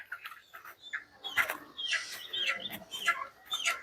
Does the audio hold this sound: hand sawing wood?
no